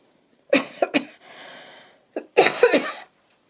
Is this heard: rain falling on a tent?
no